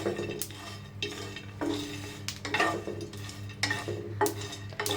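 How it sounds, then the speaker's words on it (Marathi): Sesame seeds and spices dry-roasting in a pan without oil, stirred with a utensil in repeated scraping strokes and gentle rattles over a faint steady background hum. "तीळ घालूया, छान असं हलवून घ्यायचं।"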